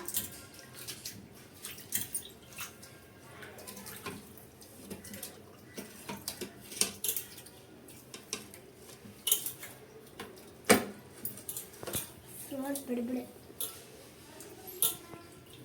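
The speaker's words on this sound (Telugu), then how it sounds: "ఇప్పుడు మాత్రం ఇక్కడ శుభ్రంగా మంచి నీళ్ళు తీసుకొని ఆ మంచి నీళ్ళతో కూడా మనము ఒకసారి కడిగేద్దాము శుభ్రంగా" Raw prawns rinsed by hand in clean water in a bowl, with irregular splashing, sloshing and clinking against the bowl at close range and a voice talking at times.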